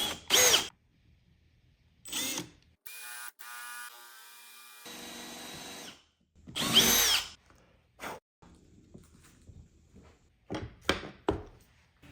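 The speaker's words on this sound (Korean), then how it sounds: "표시를 해준 곳에 드릴로 반턱을 내줍니다." A power drill cuts a half-lap notch into a wood piece for a monitor stand, in several loud bursts of whining drilling separated by pauses and lighter handling noises, close up with no talk.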